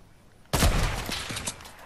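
A sudden loud burst of video game gunfire cuts in after near-silence, followed by a string of fainter scattered shots trailing off.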